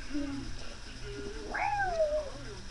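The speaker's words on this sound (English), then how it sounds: "Such a cute cat." A pet cat gives a single soft, rising-then-falling meow near the close, faint and close by, over quiet room noise.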